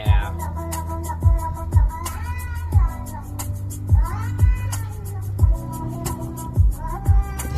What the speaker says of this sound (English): Does it sound like anyone's cat?